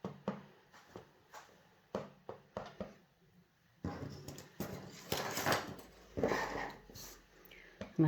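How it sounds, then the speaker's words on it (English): A dog barks in short repeated bursts in the background of an indoor stamping and card-making session, mixed with clatter and handling noises, with someone talking at points. "So excuse the dog as always for barking."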